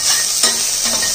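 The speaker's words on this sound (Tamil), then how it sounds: "இதை லைட்டாக ஒரு வதக்க வதக்கிடுவோம்." Chopped garlic and onion sizzle loudly as they are sautéed in a hot pan, with a dense steady frying hiss and two quick stirring scrapes, close and without talk.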